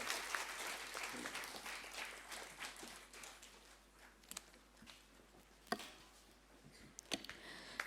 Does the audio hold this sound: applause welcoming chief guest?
yes